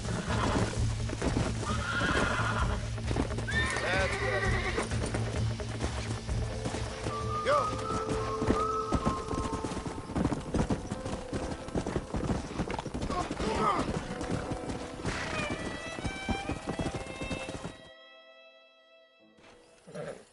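Horses neigh and whinny repeatedly over galloping hooves and shouting voices in the video game Red Dead Redemption, ending with a drawn-out whinny as the scene quiets.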